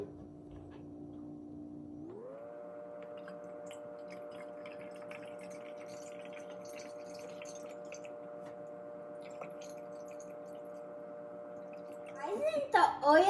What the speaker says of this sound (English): We're going to put some water in.